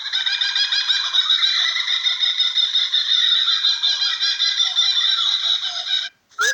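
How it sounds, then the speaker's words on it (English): A kookaburra laughs in a long, loud, continuous cackling chatter for about six seconds, close by, ending abruptly with a short final burst. "Kookaburra."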